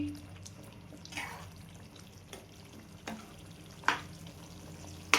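Drumstick and green pea vegetable curry gets stirred in a pan: soft sizzling under a few scraping spoon strokes, with a sharper clink and scrape standing out, close and fairly quiet.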